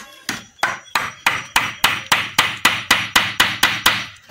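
Hammer driving 3-inch nails into wood: about fourteen loud, sharp, close strikes in a steady, even rhythm, each with a quick ringing decay, with no talk.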